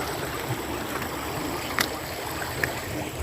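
Floodwater from a heavy rain of about ten inches flows steadily past a farm field, a continuous broadband rush with faint trickling and a couple of brief sharper splashes, with no talk.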